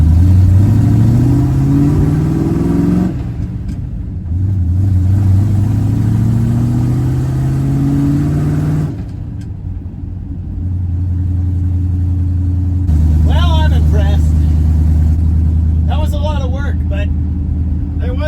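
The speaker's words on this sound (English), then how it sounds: "Pretty sure I'm hearing the fan contact the shroud intermittently." A 1974 Dodge W100 pickup with a 383 big block V8 idling and revving, the fan intermittently striking its shroud; a deep steady engine rumble rises and falls through several revs, with someone talking over parts of it.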